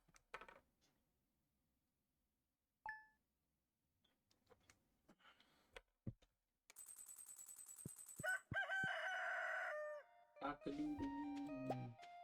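A rooster crows in the Stardew Valley farming game among short game sound effects, with clicks and chimes and bright cheerful tones following it.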